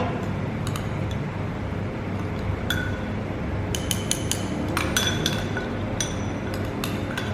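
Garlic and soaked chilies pounded in a mortar: sharp clinking strikes, sparse at first and then clustering in quick bursts, close and clear over a steady low hum.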